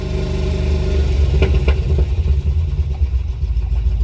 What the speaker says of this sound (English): And that, my friends, is what my car sounds like.